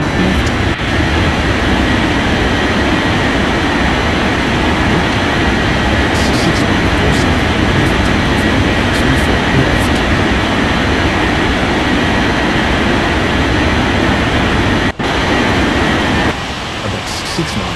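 A jet airliner takes off in an air traffic control video game, giving a loud, steady engine roar that holds for the whole stretch. It briefly drops out near the end, with radio-style talk over it.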